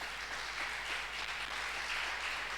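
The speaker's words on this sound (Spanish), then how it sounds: "Dale un aplauso al Señor Jesús." Sustained applause from a large church congregation during a service, a dense wash of clapping at a constant level with no voices standing out.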